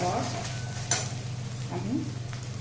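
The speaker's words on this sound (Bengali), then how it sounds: "পনিরটা হালকা নাড়াচাড়া করার পর" Paneer bhurji being stirred in a pan, with a steady sizzle of frying, soft scraping strokes and a few faint utensil clinks, close and moderately loud throughout.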